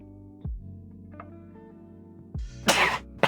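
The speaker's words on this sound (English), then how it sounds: "Sneeze and a cough, that hurt." A sharp sneeze bursts out near the end after a low throat sound, with a steady hum beneath.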